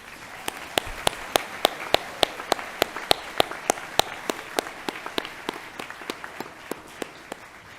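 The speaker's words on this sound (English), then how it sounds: "Let's give them a round of applause." At a school class night, a sparse crowd claps for the student photographers, with one sharp, close, rhythmic clapper standing out in even beats over softer scattered applause.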